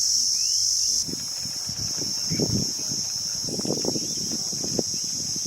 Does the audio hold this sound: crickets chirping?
yes